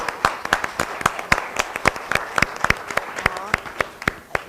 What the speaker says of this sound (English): So let's give these spellers a big round of applause.